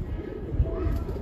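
A breeder pigeon gives a brief low coo close by, over steady background noise.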